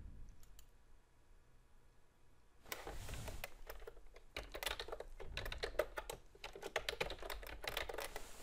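Quick bursts of clicking keystrokes on a computer keyboard sound close and fairly quiet, sparse at first and then a rapid run of typing.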